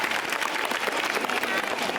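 Audience applause fills a school annual day function, a dense, steady wash of clapping from a large crowd throughout, close and loud, with no speech over it.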